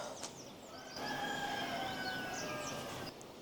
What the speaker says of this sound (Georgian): მამლის ყევილი,